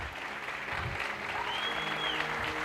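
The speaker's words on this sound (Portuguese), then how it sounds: "O melhor aplauso que você puder dar para essas mães" A church congregation at a Mother's Day celebration service applauds for the mothers, a dense, even wash of clapping filling the room.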